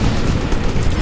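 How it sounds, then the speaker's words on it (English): A grenade blast in Call of Duty WW2, a loud, dense, rumbling roar filling the whole moment with no clear start or end, no speech. "Throwing out a grenade!"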